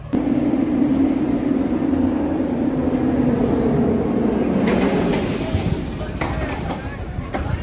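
The Katun B&M inverted roller coaster at Mirabilandia in Italy roars past as a steady, loud rumble. A few clicks and rattles sound near the end as the noise eases slightly. Nobody speaks.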